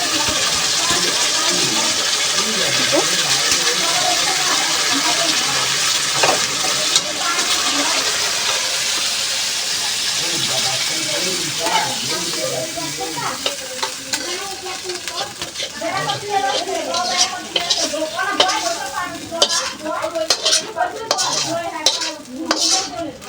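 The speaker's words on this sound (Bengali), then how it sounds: "এবার ঢেলে নেব, তরকারিটা ঢেলে নেব গায়ে পাত্রে।" Tilapia fish curry with potatoes is scraped out of a hot pan into a serving dish. A long bubbling sizzle turns into a busy run of spoon scrapes and metal clinks toward the end.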